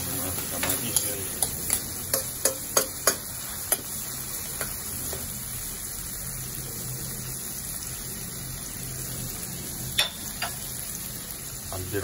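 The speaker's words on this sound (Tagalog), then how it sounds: "Medyo talagang lutuin natin itong ating bawang saka yung ating kamatis guys." Garlic and tomato sauté in a home cooking pan, a steady quiet sizzle broken by sharp ticking clicks of a utensil against the pan, with no talk.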